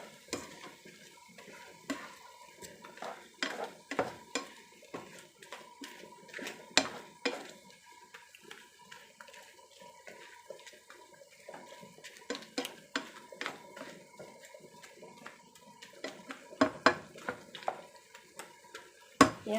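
A utensil stirs shrimp cooked with 7-Up in a pan, giving repeated light scrapes and clinks against a low simmering sizzle, fairly close and moderately quiet, with no talking.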